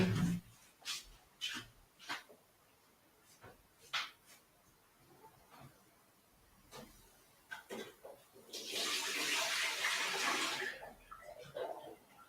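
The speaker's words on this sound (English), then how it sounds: "I need some water. Water." Water in the Minecraft game rushes and splashes loudly for several seconds near the end, after a run of scattered clicks and taps.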